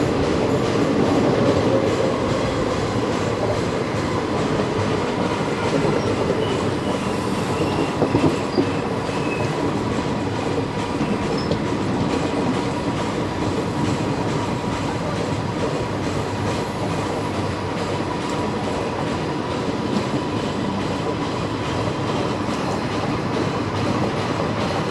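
The 06281 Mysuru Madar Special passenger train runs steadily on rails between Mysuru and Hubballi, a loud continuous rumble with rhythmic clickety-clack of wheels over joints and occasional squeal, heard from aboard without talking.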